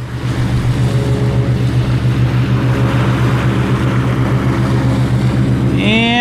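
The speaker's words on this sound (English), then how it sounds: "Got another speedboat out there." A steady speedboat engine drone with a low pulsing hum runs throughout, out on Lake Huron, with a brief rising whine near the end.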